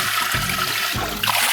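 Spring water pours into a container at a village tank, a continuous splashing rush that holds steady throughout.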